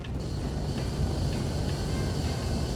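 A jet afterburner in the Roblox game Warium VS roars as a steady, loud, broadband rumble with a faint high whine running through it, continuous and unbroken from start to finish.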